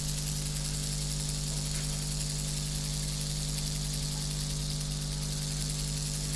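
A China-built Duchess model locomotive with an overhauled Ringfield motor runs steadily, giving a continuous low mechanical hum with a faint whirring overtone, close by and alone with no talking.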